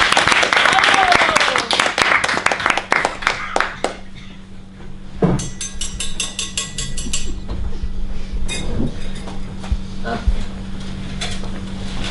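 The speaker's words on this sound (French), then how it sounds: "On applaudit Madame Ardisha." Applause for a performer during a comedy touring show, a dense burst of clapping for about four seconds that thins into scattered claps and clinks over a steady hum.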